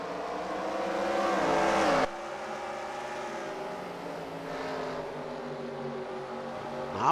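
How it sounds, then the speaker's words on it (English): Race car engines at Bristol Motor Speedway in the video game NASCAR Racing 2003 drone loudly and continuously, rising and falling in pitch, with an abrupt cut partway through as the view changes. "You got the 19 of Rodriguez currently running in 22nd, but he is very slow"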